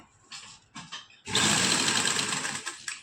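A sewing machine stitching a kameez neckline whirs in two short starts, then runs in a longer, loud, close, steady stitching burst that slows near the end.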